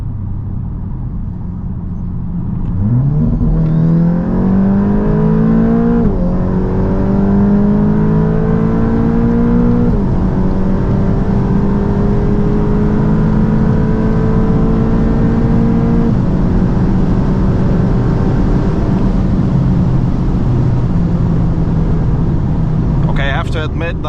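A 510 hp VW Golf GTI CS accelerates hard from 100 to 200 km/h, its engine note climbing steadily through several gear changes, loud and close from inside the cabin, with a voice talking over it.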